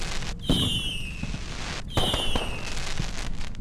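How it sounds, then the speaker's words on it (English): Fireworks display in the skypunk RPG Black Skylands: two rising whistles, each opening with a sharp pop and trailing into crackling bursts, loud and close with no voices. "there's the fireworks display"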